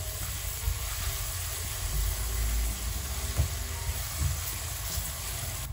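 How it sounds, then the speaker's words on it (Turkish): Onions and coarsely grated carrots sautéing in a pan for a cauliflower dish, a soft steady sizzle with low rumbling stirring scrapes running throughout. "Havuçlarla birlikte de birkaç dakika kavuruyorum"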